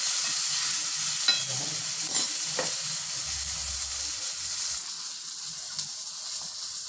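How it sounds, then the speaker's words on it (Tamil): Curry leaves and spinach greens sauté in a clay pot, a steady close sizzling hiss throughout with a few soft stirring scrapes and clinks. "கருவேப்பிலை போட்டுடலாம், அதையும் வதக்கிப்போம்."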